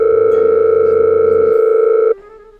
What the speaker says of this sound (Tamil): இரு, ஃபோன் அடிச்சு பாப்பா.